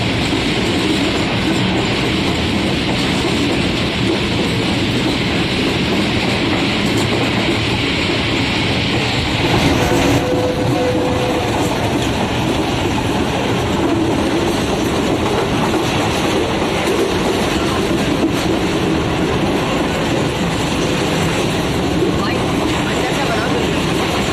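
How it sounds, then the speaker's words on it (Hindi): The 15 Up Karachi Express runs into Hyderabad station at speed, a loud, continuous rumble of rolling wagons with clickety-clack wheel beats. Someone talks over it throughout. "बहुत ही स्पीडी एंट्री हुई है 15 अप कराची एक्सप्रेस की"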